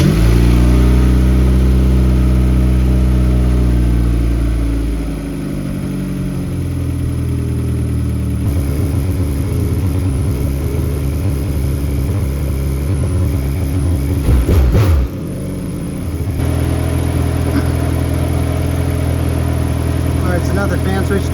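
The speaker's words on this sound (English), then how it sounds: "we're gonna go ahead and start the car, and we're just gonna go ahead and let it idle" A turbocharged Mazda Miata starting up and idling steadily, a loud close engine drone with some shifts in tone and a brief mechanical clatter midway, while a person talks over it.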